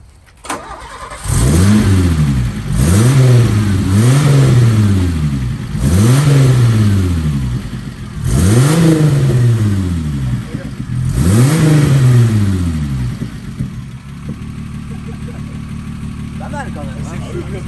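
A car with a mine exhaust fires up and revs over and over, each loud blip rising and falling back to a throaty idle, and people speak briefly over the engine noise.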